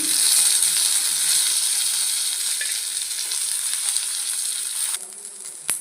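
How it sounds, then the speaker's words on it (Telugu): Green chillies fry in a pan for chutney with a loud, continuous hissing sizzle close by that eases off near the end, followed by a single sharp clack, with no talking. "ఇప్పుడు బాగా వేపుకోవాలండి ఇవిగో చూడండి సీమిరపకాయలు"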